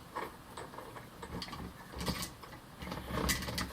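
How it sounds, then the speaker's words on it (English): A Manfrotto super clamp on a 396B double articulated arm with camera bracket is tightened by hand, giving faint, close mechanical clicks and light ratcheting in a few short bursts against a quiet room. "push a little button here to let it seat, and then tighten it"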